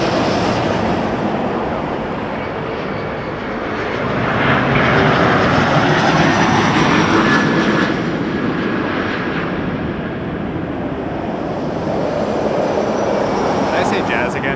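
American Eagle regional jet operated by PSA Airlines, flying in from Charlotte near Toronto Pearson Airport, its engine roar swelling as it draws closer and then easing off, with a voice talking over it.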